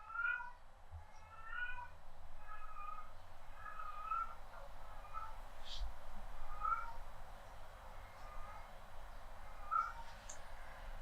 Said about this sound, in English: She's talking to my kitten, and one's growling, the other one's actually talking back.